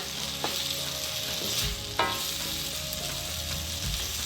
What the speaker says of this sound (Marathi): त्यानंतर आपण वालाच्या शेंगा घेतलेल्या आहेत त्या टाकूया त्याही त्याच्यामध्ये छान मिक्स करून घ्यायच्या